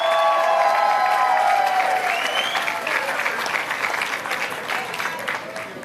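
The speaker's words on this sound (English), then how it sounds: "Give him a big round of applause." Audience applause for a DJ at a Hispanic Heritage Month event with the mayor, a dense, sustained clapping that rings out loud and gradually thins toward the end, with a faint voice or cheer near the start.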